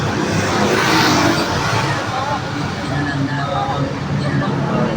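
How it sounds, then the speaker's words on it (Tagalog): Dense Manila city traffic with running engines and passing vehicles, a loud steady roar that fills the whole clip with no break, mixed with faint background chatter. "Puro sasakyan na lang naririnig ko."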